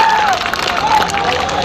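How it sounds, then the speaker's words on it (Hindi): Crowd at a political rally in Chatra with a Union Minister, clapping and murmuring in a sustained wash, with a voice carrying over it. "मैं चाहता हूं सबसे पहले जोरदार ताली आप लोग प्रेम जी के यहाँ पर बजाने का काम करें"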